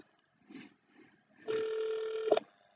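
A steady electronic telephone tone sounds after a call to a police dispatch line drops, a sustained buzzing signal that ends abruptly, preceded by brief faint rustling and no speech.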